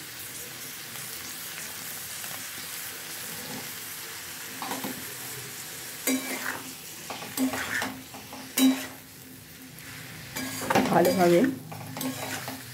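Kashmiri chilli powder and turmeric being stirred and mixed in a frying pan, a soft oily sizzle with intermittent scraping and clanks of a spoon against the metal pan, growing busier toward the end.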